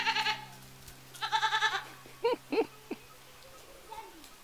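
A herd of goats bleats in the open countryside during a village walk, with several loud, close, wavering bleats at the start and middle and shorter cries afterwards, some faint talk in between.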